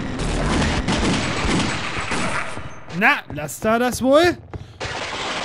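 A weapon fires rapid, loud bursts of gunshots in Half-Life: Opposing Force for about two and a half seconds, then stops as someone speaks briefly over a quieter background.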